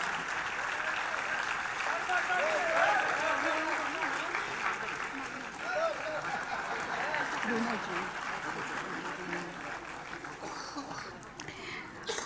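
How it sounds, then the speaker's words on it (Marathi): A large audience at a book launch ceremony for a singer applauds loudly, with dense, sustained clapping that holds steady for the whole stretch before easing slightly near the end, with voices murmuring faintly underneath. "जोरदार टाळ्या वाजवून आपण या भावनेमध्ये सहभागी होऊया."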